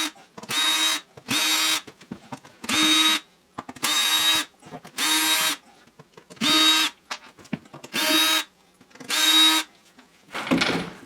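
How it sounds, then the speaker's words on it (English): Wooden shipping crate for a stained glass piece being opened with a screwdriver that sounds powered: about nine evenly spaced whirring bursts, each roughly a second long, close and loud, with short pauses between them. "it looks like I'm going to need a screwdriver"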